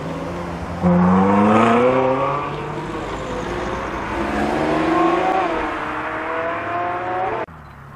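A Ferrari 458 sports car arriving at the Rallye de Paris 2016 in Ouzouer-sur-Trézée, its engine revving loud and close with a rising, falling pitch across several seconds before cutting off abruptly.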